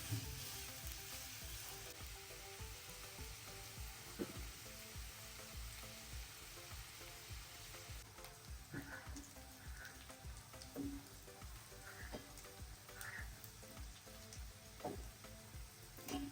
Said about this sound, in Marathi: हा बघा, असा गोल्डन फ्राय करून घ्यायचा कांदा